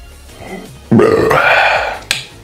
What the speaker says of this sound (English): And the burps come like 3, 2, 1.